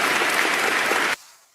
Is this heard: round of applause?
yes